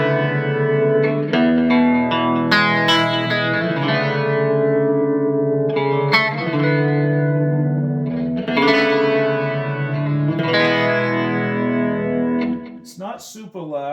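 Electric guitar played through a Roland Micro Cube amp with its chorus effect engaged: sustained shimmering chords and single notes ring out one after another, with a wavering, doubled tone and some distortion.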